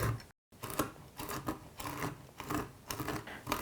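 Roasted nuts ground to a coarse chop in a kitchen appliance, a loud rough whirring in repeated short bursts with a brief silent gap near the start.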